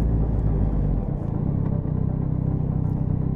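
A Yamaha XSR900 motorcycle engine rumbles steadily with a low, throbbing pulse, heard from the rider's position, fairly strong throughout with no speech.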